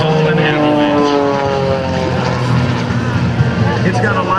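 A 300-horsepower Lycoming 540-powered aerobatic plane looping at an airshow, its propeller engine droning loudly and steadily with rising and falling pitch, under a commentator's voice.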